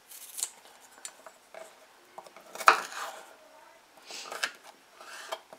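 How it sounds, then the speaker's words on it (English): Garlic being chopped very fine with a knife on a board for stir-fry vegetables, a series of sparse, irregular close taps and scrapes with quiet gaps between them. "So we're just gonna chop our garlic very fine"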